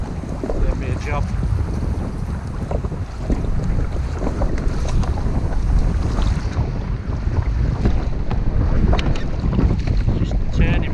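Strong wind roars steadily across the microphone while kayaking off Unst in the Shetland Islands, with water slapping against the hull, a loud continuous rush throughout.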